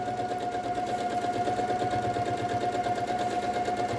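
A sewing machine hums continuously with a fast, even mechanical chatter as it stitches a quarter-inch seam through layered quilt pieces, steady and close with no pauses.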